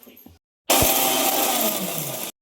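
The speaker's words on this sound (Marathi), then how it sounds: "आता दळून घेते." A mixer grinder grinding mint leaves with salt whirs loudly and steadily for under two seconds, starting abruptly after a brief quiet moment and cutting off sharply.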